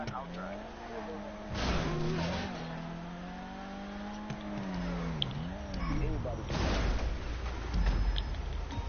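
Car engine driving in Grand Theft Auto V Online, a steady droning hum that rises and falls as the car speeds up and slows, with some tire noise and bursts of louder revving.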